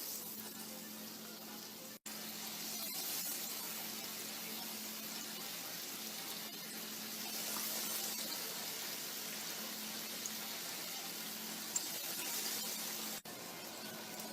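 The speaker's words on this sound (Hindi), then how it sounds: "यह हमारा ऑयल गर्म है, इनमें डाल लेते हैं हम।" Lentil patties frying in hot oil at a Lahore street food stall: a steady, faint hiss and sizzle that continues throughout without breaks.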